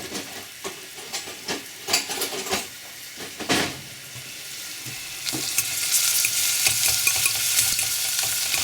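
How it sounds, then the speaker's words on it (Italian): Tortelloni frying in melted butter in a pan, gently stirred with a small fork: soft scraping and clinking strokes over a steady crackling sizzle that grows louder and denser toward the end, close and with no talk. "Qua hanno incominciato anche a friggere, quindi con una forchettina possiamo leggermente girare."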